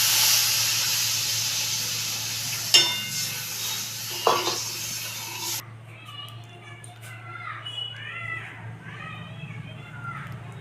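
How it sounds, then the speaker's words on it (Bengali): Water is poured into spice paste frying in a pan for a Bengali parshe fish curry, giving a loud hissing sizzle with a couple of sharp clatters that cuts off abruptly, leaving quieter kitchen noise and faint voices. "এবার আমি জল দিয়ে দেবো।"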